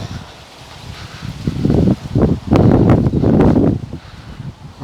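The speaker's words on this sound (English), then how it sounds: "I do apologise for this wind, but it's totally unavoidable where we are" Gusty wind buffets the microphone in an open graveyard, loud rumbling surges that rise and fall over several seconds.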